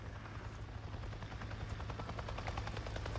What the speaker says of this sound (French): Je viens de voir un putain d'hélico, tu m'entends? Un hélico?